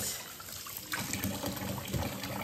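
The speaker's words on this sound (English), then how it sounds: "So let me wash my hands and let's get started." Tap water runs steadily into a sink while hands are washed, a close, soft splashing gush with small fluctuations as the hands move under the stream.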